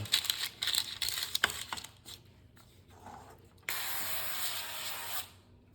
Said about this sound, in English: And I'm also going to spray the parchment paper as well.